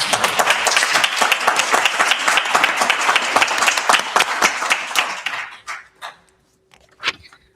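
A room of people at a city council meeting breaks into applause, a dense burst of clapping for about five seconds that thins out into a few scattered claps and fades.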